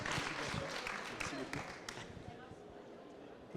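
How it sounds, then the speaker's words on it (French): Audience applause at the FNHPA 2025 sustainable development awards ceremony: dense, steady clapping from a crowd that fills the room and slowly eases off over a few seconds. "si vous pouvez l'applaudir"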